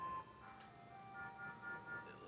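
An ice cream truck plays its cheerful jingle far in the background, faint and thin, with a few repeating melodic notes and no talking.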